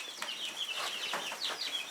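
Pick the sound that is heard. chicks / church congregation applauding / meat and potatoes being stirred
chicks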